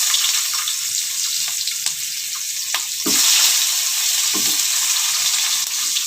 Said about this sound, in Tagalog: Gigisahin natin yung sibuyas